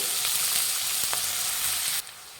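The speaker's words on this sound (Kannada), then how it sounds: "ಈರುಳ್ಳಿ ಹಾಕ್ಕೊತಾ ಇದ್ದೀನಿ. ಇದನ್ನು ಫ್ರೈ ಮಾಡಿ." Chopped onions sizzle and fry in a pan for a military hotel style mutton liver pepper fry, a steady close hiss that drops off sharply near the end.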